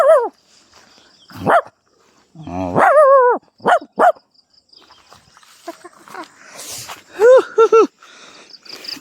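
A man imitates a dog with his voice, giving a series of harmonic barks and yips in uneven bursts, close and fairly loud, with short pauses and softer sounds between them, outdoors on a village walk while hunting wild mushrooms.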